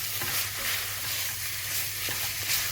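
Curry is stirred in a hot frying pan, a steady close sizzle running throughout with soft scraping strokes from the utensil against the pan.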